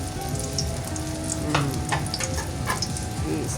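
Eggplant frying in oil crackles and sizzles steadily at close range, a dense bubbling patter with occasional sharper pops and a faint scrape of stirring.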